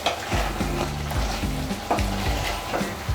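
Chettinad crab masala with cashews and curry leaves sizzling steadily in a pan, with repeated scrapes and clacks of a spoon stirring it through the clip, close and fairly loud.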